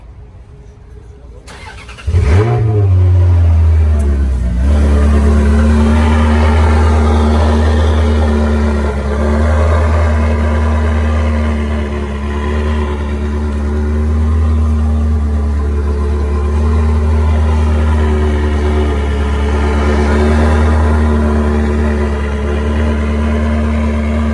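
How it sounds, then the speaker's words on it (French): A Ferrari 360 Modena cranks and fires up outdoors at Place Vauban in Paris, the engine catching after a brief starter whirr and settling into a loud, steady, close idle with slight rises in revs, a little talk nearby. "Fais chauffer la Ferrari."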